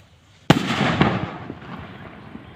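A homemade kwitis firework rocket built from a Yakult bottle ignites with a sudden loud crack, then a sputtering, crackling rush of thrust that fades over about two seconds, heard close and alone.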